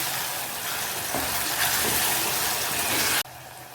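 Ginger-garlic paste being stirred into tomatoes already cooking in a pan gives a steady close sizzle with a wet frying hiss that runs unbroken, then cuts off sharply near the end, with no one talking.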